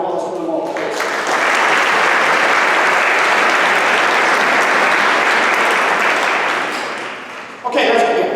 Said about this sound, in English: A round of applause for them all, please.